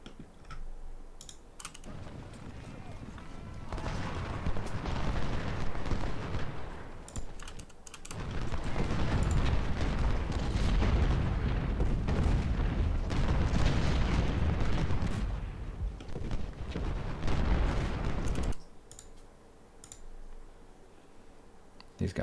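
Cannon artillery roars in the video game Ultimate General Civil War during the Malvern Hill battle, with sustained rumbling volleys and booms that swell and fade over a noisy battlefield din.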